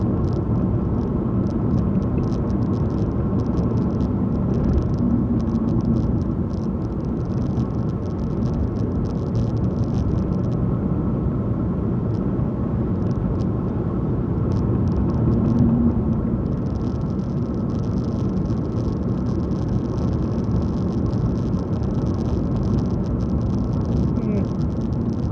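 Car driving along a narrow, winding country road on an overcast day, giving a steady, continuous engine rumble and road noise throughout, with no talking.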